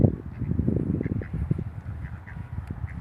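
Wild ducks quacking in a noisy, busy flock, dense overlapping calls close by and continuing steadily throughout.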